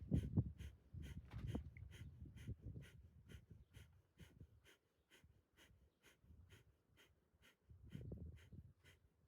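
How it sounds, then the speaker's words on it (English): Rapid rhythmic kapalabhati yoga breathing, short forceful belly-pumped exhales repeating steadily at a quick even pace, with softer breathy bursts underneath. "we're coming in for round 4 of our belly pumps, our kapalabhati breathing"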